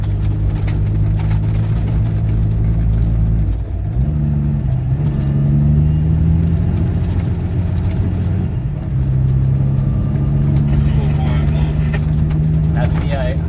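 Empty logging truck cruising at speed, a loud steady diesel drone with gear and rev shifts and a hiss of air brakes, heard from inside the cab with a voice speaking over it.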